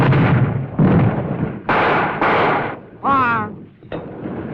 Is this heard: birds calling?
no